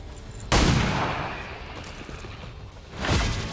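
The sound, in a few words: pistol shot in XCOM 2 video game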